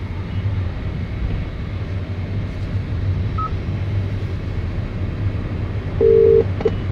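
A phone number is dialed: a faint keypad beep midway and a louder tone near the end, over a constant low droning hum.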